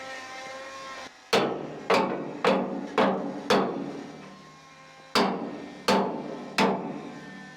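A hammer striking a steel bow plate during boat welding work: nine sharp, ringing metallic blows, close and loud, in two bursts of five and three with a brief pause between, each clang decaying quickly.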